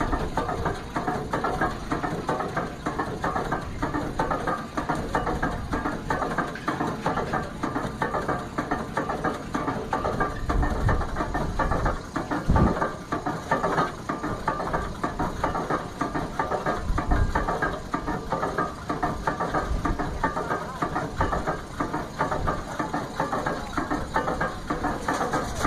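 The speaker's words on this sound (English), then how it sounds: "Got a road train going through." A road train's heavy truck engine rumbles steadily throughout, a continuous low drone of a large vehicle rolling past in Kalgoorlie, Western Australia.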